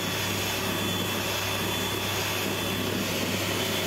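An electric hand mixer whips eggs and sugar into a thick, pale sponge cake batter, a steady, continuous whirring drone that holds evenly the whole time with no talking.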